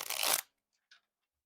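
A small tarot card deck being shuffled by hand, one brief riffle burst followed by a faint tap, close and quiet.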